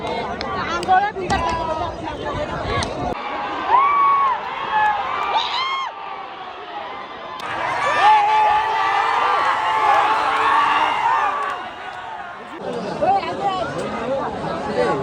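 A dense crowd at a bullock cart race cheers and shouts in waves, with loud babble surging and falling and voices talking over it throughout.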